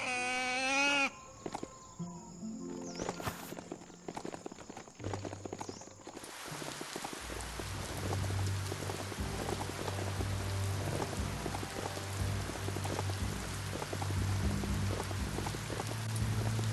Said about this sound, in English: The rain's making it slick out.